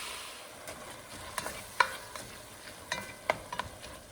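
A utensil scrapes and clinks against a pan while browned, drained hamburger meat is stirred, with a faint sizzle underneath and a handful of sharp, close taps spread irregularly.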